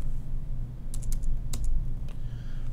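A series of quick, close key clicks on a computer keyboard while text is entered with a type tool in Adobe Illustrator, arriving in short irregular bursts over a steady low background hum.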